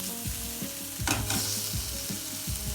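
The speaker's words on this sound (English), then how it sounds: "Nicely saute it." Onion sautéed with a bay leaf in a pan for a stuffed-onion dish, with steady sizzling and a few clear scrapes of a spoon against the pan, close and even throughout.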